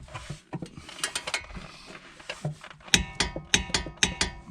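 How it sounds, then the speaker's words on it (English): A torque wrench ratchets and clicks while tightening brake caliper bolts on a 2015-2023 Nissan Maxima: close sharp mechanical clicks and ratcheting in irregular bursts, growing louder and more rhythmic in the second half. "So we're going to go ahead and get both of these torqued to 107 foot-pounds."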